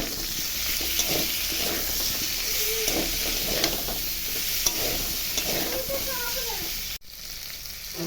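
Tomatoes sizzling in a hot pan while being stirred, with a continuous hiss broken by scraping utensil strokes and faint voice-like tones, before a sudden drop and a quieter close.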